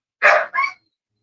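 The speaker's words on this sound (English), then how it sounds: "Oh, I got some loud ass dogs barking" Two loud, close dog barks in quick succession, the first longer and harsher, the second shorter, followed by silence.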